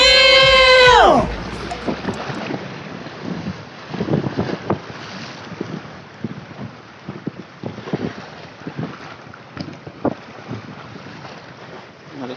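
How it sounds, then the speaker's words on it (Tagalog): A fishing boat rides strong waves in heavy wind, with loud wind buffeting the microphone, repeated thuds and splashes of the hull against water, and an engine note that winds down at the start. "Malakas yung alon mga master."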